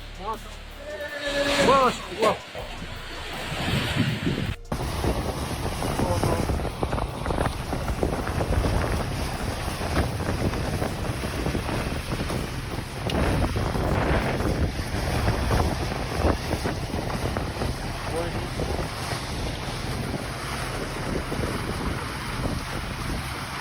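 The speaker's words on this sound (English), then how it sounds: "A sudden tornado visited Makassar, Indonesia on February 9th." Violent tornado winds roar and buffet the microphone across Makassar, Indonesia, a steady broadband storm rush with loud gusts, likely mixed with rain, after a short burst of voices at the start.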